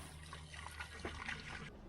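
Water trickling from the tap of a mountain hut's water tank, a soft, continuous dribble, faint and close.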